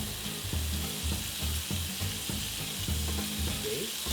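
Garlic sautéing in butter in a pan gives a steady, close sizzle and frying crackle, with soft stirring scrapes recurring through it and no voices.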